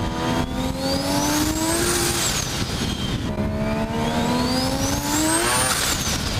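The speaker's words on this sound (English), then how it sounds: "And this RX-7 sounds like it's been engine swapped." An engine-swapped Mazda RX-7 with a three-rotor engine and unequal length exhaust manifold revs hard twice, each pull rising steeply to a high-pitched scream before dropping off, loud and close.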